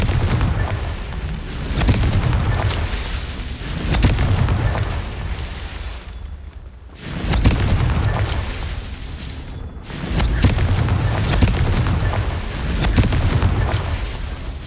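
Confringo fire spells detonating in the Hogwarts Legacy video game, heavy booming blasts that roll out in long rumbling swells, repeating several times with brief near-silent gaps between, loud and dominant with no talking.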